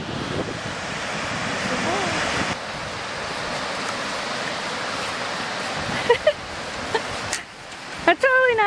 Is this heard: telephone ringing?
no